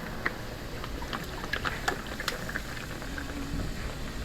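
Hissing sizzle of water on an overly hot flat-top griddle with scattered crackles and pops, steady and close.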